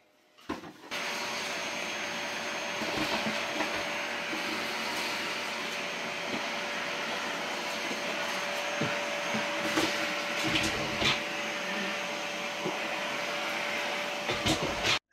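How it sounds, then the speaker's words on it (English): A vacuum cleaner runs steadily across the floor, picking up debris, a constant close whooshing drone with a faint whine and occasional clunks and rattles from items being sucked up, no speech. "That's what it looks like when I'm vacuuming, picking up stuff from the ground."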